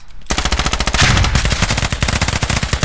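Rapid, sustained automatic fire from an M4 machine gun in a close-quarters battle round of a tactical shooter game set in Al Basrah, loud and continuous bursts with no talking.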